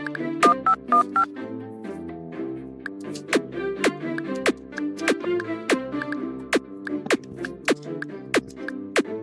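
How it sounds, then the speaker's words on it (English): Telephone keypad dialing in the video game Kindergarten 3: a run of clear, evenly spaced touch-tone beeps, some quick and clustered and others spread out, fairly quiet over soft in-game background music. "Talk to Miss Applegate and dial the phone."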